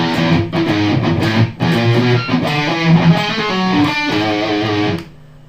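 Electric guitar plays the first two bars of a piece with a distorted tone: a loud, close, grooving run of notes in uneven rhythm that ends abruptly, with no talking.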